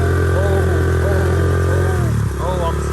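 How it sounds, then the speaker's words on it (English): A pit bike motorcycle engine revs steadily while its back tire spins in mud, a loud continuous droning whine close by, with a voice talking over it. "Oh, I'm spinning the back tire."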